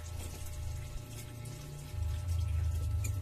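Weak tap water running during laundry, a low steady trickle and splash from a faucet that swells louder near the end, with no talking.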